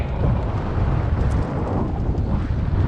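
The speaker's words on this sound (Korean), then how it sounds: "갈대가 누워있는 방향과 바람 소리를 들어보면 정통으로 역풍을 맞고 가고 있다는 걸 알 수 있어요" Strong westerly headwind roars continuously against the microphone while cycling along the Nakdong River, a dense low buffeting rush that never lets up, with no voices.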